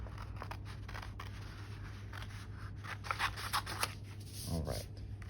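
Scissors cutting a paper Stegosaurus sculpture along the tips of its back plates, with quiet close snips and paper rustles and a few louder crisp cuts near the end, under soft background hum.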